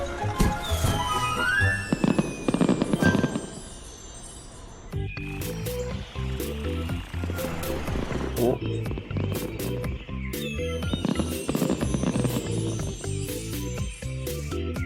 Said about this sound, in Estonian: vaata! Ilutulestik!